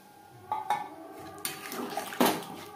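Water poured into a pan of spiced jackfruit and potato curry: a few clattering knocks of pot and utensil followed by brief splashing and a louder pour near the end, close by, no speech.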